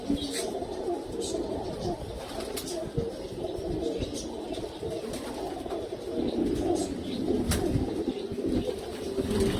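Pure old-bloodline pigeons coo steadily in a loft, with overlapping low throaty calls close by, some faint chirps and light wing rustles, and a voice talking intermittently underneath.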